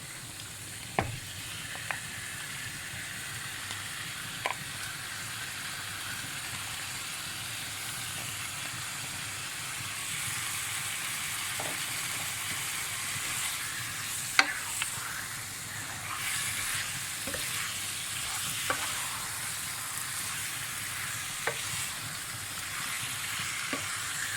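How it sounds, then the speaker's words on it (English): Meat being stirred into a pot of dhal gosht, a steady close sizzle and hiss running throughout, broken by a few faint scattered clicks of the spoon. "we're going to add in our meat and then stir it in, let that braise for a while"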